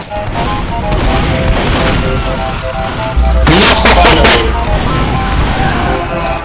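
Loud, dense volleys of gunfire and blasts fill a Team Fortress 2 match, with rapid shots overlapping continuously and a heavier burst of fire midway.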